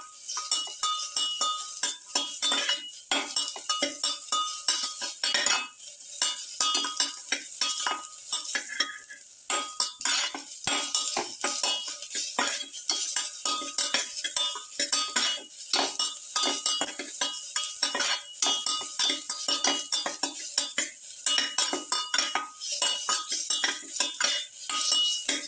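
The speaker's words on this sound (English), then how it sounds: "Salt and crush the tomatoes." A metal utensil scrapes, clinks and presses salted tomatoes against a pan, crushing them over a faint sizzle, with busy, irregular knocks and scrapes continuing closely and steadily with no talking.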